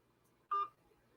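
One short telephone keypad tone sounds when a button is pressed on a phone hotline. The beep is clear and close, and a quiet hum sits around it.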